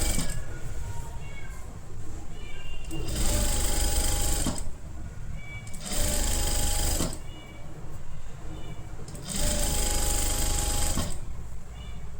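Sewing machine running straight stitches along a seam of a halter neck kurti, loud and close, in about four steady bursts separated by short pauses.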